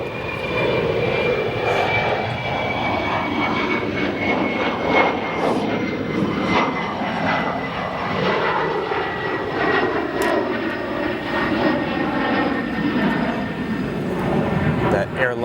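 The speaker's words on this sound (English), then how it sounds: "and then we will have our Airbus 350 depart." An Airbus A350 departing O'Hare International Airport makes a loud, sustained jet engine roar that holds steady for about fifteen seconds, with faint indistinct voices underneath.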